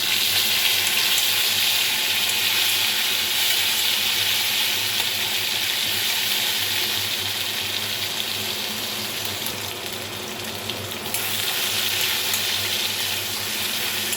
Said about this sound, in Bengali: তেলটা যখন গরম হয়ে যাবে তখন দিয়ে দেব গোটা জিরে